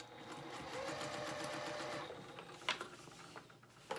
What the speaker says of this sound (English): then you will start sewing down the bottom hem